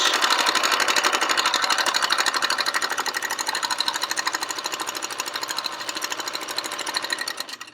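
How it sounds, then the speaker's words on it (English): A sewing machine runs steadily and close up, top stitching along the edge of a pleated fabric face mask, its rapid even needle chatter continuing alone for several seconds before slowing slightly near the end. "I'm going to just do a nice top stitch."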